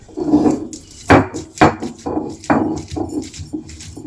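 Fresh pepper, garlic, salt and raw turmeric are ground by hand on a traditional grinding stone. Close, rhythmic scraping and knocking strokes come in irregular bursts with sharp thuds between them.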